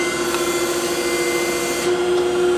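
An Okamoto ACC20-40DX reciprocating surface grinder runs with a steady, loud motor hum and a constant tonal whine, with faint mechanical rustle underneath throughout the short stretch.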